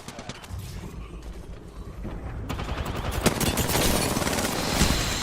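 Rapid automatic gunfire from an Apex Legends match, dense bursts of shots that grow louder and more continuous toward the end, with mechanical clatter mixed in.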